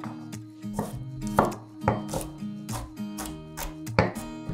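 Small shallots coarsely sliced with a knife for traditional Perak rendang tok, a quick run of about nine crisp, fairly quiet chopping strokes on a board with uneven spacing and no talk.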